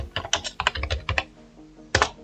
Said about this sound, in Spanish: escribiremos en su barra de búsqueda Windows Media